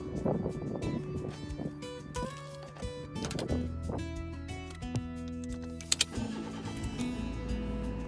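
A car engine cranks and catches, settling into a steady idle inside the vehicle, with a couple of sharp clicks and shifting tones during a trip to a beach cleanup in Japan.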